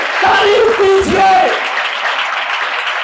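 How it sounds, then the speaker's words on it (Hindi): A church congregation clapping during a worship service, brief bursts of applause mixed with voices and some tonal sound, fading into a quieter room tail after about a second and a half. "आए उसके जलाल के लिए तालियां बजाइए"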